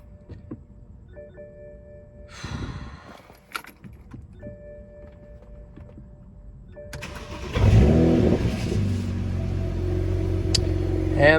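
A BMW 335i E90/E92 just after an oil change: keys jingle and rattle first, then the engine cranks and catches around the midpoint and settles into a steady, close, rumbling idle.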